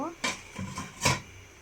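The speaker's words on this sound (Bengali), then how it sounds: "ঢাকনাটা উঠিয়ে নিব" A lid lifted off a cooking pot of eggplant, potato and hilsa fish curry: two short metallic clanks with a softer clink between them, close and moderately loud, with a voice nearby.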